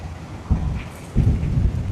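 Strong wind gusting across a small island under heavy cloud, buffeting in two deep rumbling surges with a brief lull between, loud and close.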